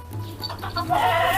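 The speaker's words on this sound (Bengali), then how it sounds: "নিশ্চয়ই আমার ছাগলের বাচ্চার" A short, thin bleat from a young goat being fed rice straw, rising at the end, with faint farmyard background noise.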